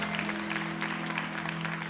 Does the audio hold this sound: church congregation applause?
yes